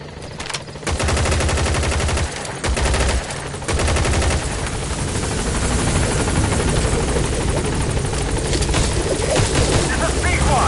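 Helicopter B-Quad arriving in Metal Gear Solid V, a loud, steady rotor drone across the whole span with brief dropouts early on, joined by bursts of gunfire and radio chatter.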